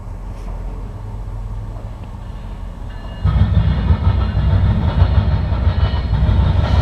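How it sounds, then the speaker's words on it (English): Northbound Norfolk Southern mixed freight train in Marion, Ohio, starting as a low distant rumble and swelling suddenly into a loud, close passing roar with dense rolling rail noise and faint clatter. "Got a train coming."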